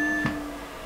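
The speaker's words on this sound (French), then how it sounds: "le temps du bip, le relais déclenché là, on l'entend" A radio repeater lets out a short, clear beep as it is keyed by a Motorola MC Micro transmission, a single brief tone over a steady hum of background hiss.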